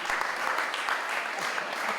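Clapping from the audience at an award ceremony for the Broughton Sportive 2019, a steady medium-distance patter of many hands with occasional crisper individual claps, even in level throughout and free of speech.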